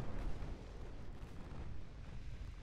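Deep, rumbling booms of 16.9 inch naval guns firing in the warship battle game Ultimate Admiral Dreadnoughts, a sustained low roar of heavy broadside fire with no talk.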